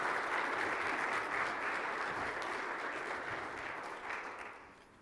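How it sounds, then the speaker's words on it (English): Audience applause at a church leadership session, a steady wash of many hands clapping for about five seconds that slowly fades toward the end. "let's give Pam another big round of applause."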